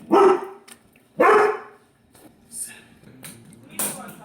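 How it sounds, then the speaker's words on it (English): A dog barking nearby, two loud barks about a second apart followed by a few fainter, shorter yips and woofs. "The dog was just barking."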